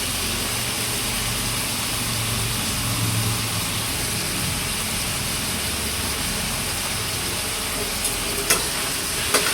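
Food is stirred and fried in a pan after oyster sauce goes in for a simple home-cooked dinner, giving a steady loud sizzle under scraping, with a few sharp utensil clinks near the end and no talk.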